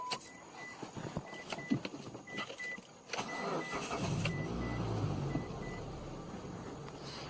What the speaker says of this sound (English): start the vehicle, allow it to warm up